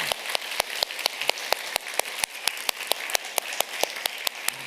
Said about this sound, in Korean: 정말 수고했다고 우리 뜨거운 박수로 이들을 격려합시다